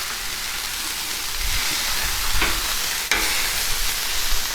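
Beef patties sizzle loudly on a hot flat-top griddle, a steady crackling hiss with a few scraping sounds, no voices.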